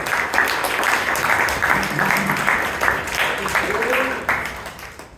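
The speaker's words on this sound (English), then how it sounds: "So please give Abhay Kothari a big round of applause." Big round of applause from the audience at a Toastmasters club meeting, a steady wash of many hands clapping that holds for several seconds before thinning out, with some voices mixed in underneath.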